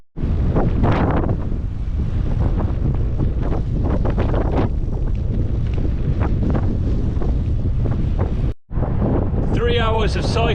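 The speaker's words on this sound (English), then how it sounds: "the wind's really cutting into progress today" Strong wind blows while cycling in Iceland between Hvammstangi and Blonduos, roaring constantly across the microphone with gusty bursts and a brief lull near the end.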